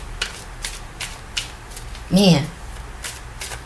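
A deck of angel number cards is shuffled in short, crisp riffling bursts that repeat several times at close range, while a voice briefly breaks in partway through.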